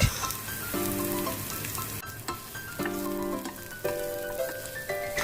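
Chopped onions and split green chillies sizzle in hot oil in a pan, a loud continuous crackle with bursts of stirring and scraping over it, no voices.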